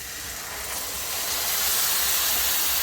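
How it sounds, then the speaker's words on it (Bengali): Ginger-garlic spice paste with turmeric and Kashmiri chilli powder hissing loudly in a pan just after a splash of water goes in, a broad steady steam-like hiss that swells slightly and holds. "এবার অল্প জল দিয়ে এটাকে কষাতে দিয়ে দেবো।"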